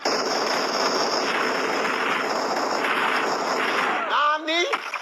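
A bomb in a video game goes off as a sustained, loud, roaring rumble that fills most of the clip. A voice cuts in near the end over fading noise.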